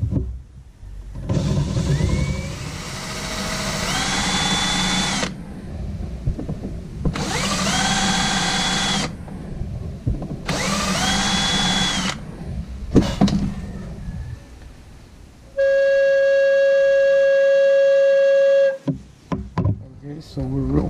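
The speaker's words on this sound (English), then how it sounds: "I got to change to a different step drill" A power drill whines in three long bursts as a step drill bit bores through PVC pipe, followed by a sustained high steady tone and a few clunks.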